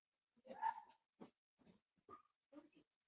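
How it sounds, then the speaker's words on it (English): Dogs in a room making a series of short whimpering, snuffling vocal bursts, about five spaced sounds over a few seconds, fairly close and quiet with silence between. "we got dogs"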